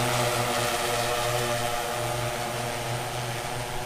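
A DJI M600 drone lifts off with a loud, continuous whine and buzz from its spinning propellers, steady and close throughout with no talk.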